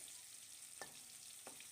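Tofu frying in a pan at home makes a quiet, steady sizzle, broken by two brief scraping knocks as the pieces are flipped.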